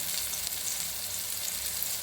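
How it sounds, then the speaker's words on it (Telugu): Fish pieces frying on a flat griddle pan with only a little oil, producing a steady, close crackling sizzle throughout with no voices. "బాగా ఎక్కువ ఆయిల్ కూడా పట్టదు, అందుకని నేను దీన్ని పెనం మీద వేయిస్తున్నాను."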